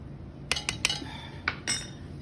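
A utensil clinks against a bowl while seasoned cheese is mixed, giving about five sharp metallic taps at uneven intervals over a low steady hum, with no voices.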